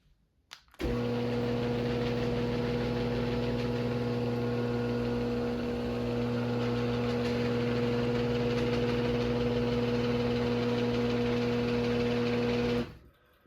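A Genie G5000 garage door opener runs the door down with a steady, loud motor drone and hum, starting abruptly and holding constant for about twelve seconds before cutting off.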